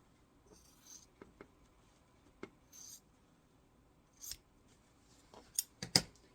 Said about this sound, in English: I'm going to trim it 1/4 of an inch from my stitching